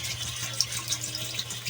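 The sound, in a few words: water being poured into a pot of chicken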